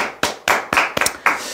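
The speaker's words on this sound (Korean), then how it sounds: "박수 한번 치시죠." A person claps hands several times in a loose, slightly uneven rhythm, each clap a sharp, loud, close smack with a brief decay, and no speech over it.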